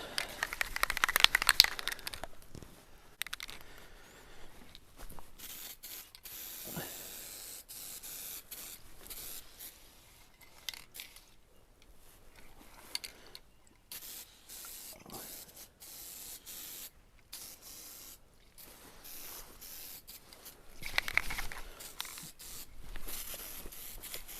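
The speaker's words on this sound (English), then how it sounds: "so I do need to spray both surfaces" Hissing bursts from an aerosol can of contact adhesive spraying close by, several sprays separated by pauses, with faint rustling and handling noises between.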